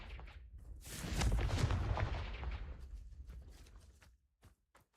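A Confringo blasting spell bursts in the Hogwarts Legacy video game: one loud, broad explosive boom swells and rumbles for a couple of seconds, then fades into scattered short crackles and thuds.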